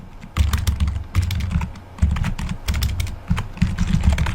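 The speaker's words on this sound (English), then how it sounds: "let's just type in a professional" Rapid typing on a computer keyboard, close and clear, with bursts of clattering keystrokes separated by brief pauses and no voices.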